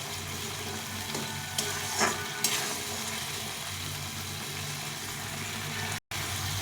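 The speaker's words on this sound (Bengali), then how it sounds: "এই জল দিয়ে ভালো করে মশলাটাকে কষে নিতে হবে" Spice paste stir-fried with water in a pan, giving a steady, moderately loud sizzle and bubbling with occasional scrapes and clinks from stirring.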